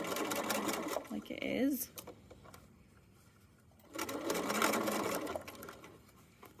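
A sewing machine stitches the back panel of a fanny pack in two loud bursts, with a quiet gap between them, while a person talks over the stitching.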